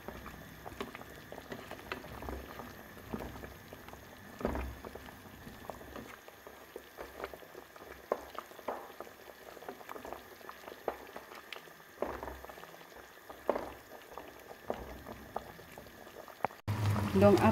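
Indonesian coconut-milk chicken, opor ayam, simmers in a pot with a steady low bubbling and occasional pops and taps, fairly quiet and unaccompanied by talk.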